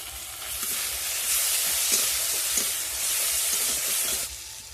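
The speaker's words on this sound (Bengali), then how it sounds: "মশলাটা আমি ভালো করে কষে নেবো তেল ছাড়া পর্যন্ত।" Cumin and coriander spice paste with turmeric fries in hot oil for a Bengali prawn and cauliflower curry: a steady, close, continuous sizzle and hiss with soft scraping stirs throughout, and no voices.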